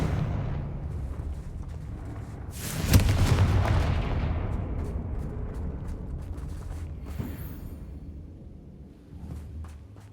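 Confringo fire spells blasting in Hogwarts Legacy: a loud booming explosion bursts about three seconds in, followed by a long rumbling roar and crackle that slowly fades, with smaller thuds and pops scattered through the battle.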